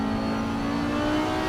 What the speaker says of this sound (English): So this is an Audi chasing down a BMW.